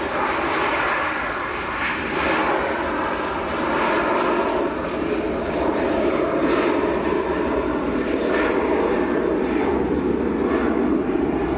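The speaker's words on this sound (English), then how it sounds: "Ryanair up and away." Ryanair airliner taking off at Manchester airport, a loud continuous engine roar and rumble holding steady for over ten seconds with no talk.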